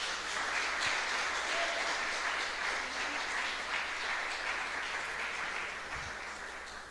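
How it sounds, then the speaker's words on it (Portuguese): A church congregation in Brazil gives sustained applause, a dense wash of many hands clapping throughout before gradually thinning toward the end. "Eu quero uma salva de palmas para Jesus, por favor."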